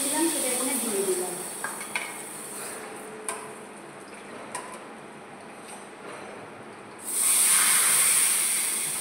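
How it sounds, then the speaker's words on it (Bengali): Fried semai vermicelli added to a hot pan and stirred, giving soft scraping and light sizzle with a few clicks. A loud steady hiss rises sharply near the end as the gas is turned up. "আর এই সেমুইটা যেটা ভেজে রেখেছিলাম সেটা এখানে দিয়ে দিলাম"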